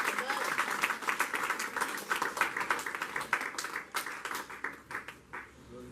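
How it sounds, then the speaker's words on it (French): A church congregation claps for the Lord during a bilingual French-English service, a dense run of rapid hand claps lasting several seconds before thinning out toward the end. "Let's clap for the Lord."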